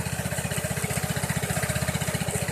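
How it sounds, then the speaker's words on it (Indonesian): A Vespa Sprint 150 3V scooter engine runs close by with a fast, even putter and a steady rhythmic pulse throughout, fairly quiet and with no talking. "Kalau lu bisa dengar suara mesinnya ya,"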